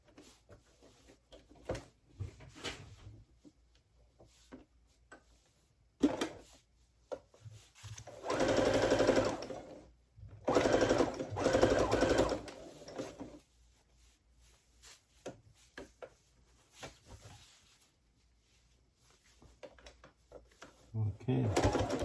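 A sewing machine stitching plaid fabric for men's pants runs in loud, steady bursts of a few seconds each, close up, with quieter handling noise and a voice talking between the runs.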